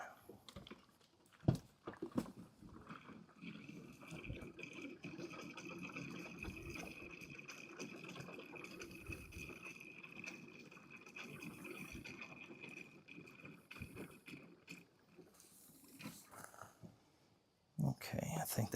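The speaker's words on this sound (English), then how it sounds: "So this is the fuel cap. You can see the fuel level in there. So we're going to fill it with some" Gasoline pours into the fuel tank of a VEVOR plate compactor with a 2.8HP 78.5cc gas engine, a steady, faint liquid trickle that runs for about fifteen seconds before stopping.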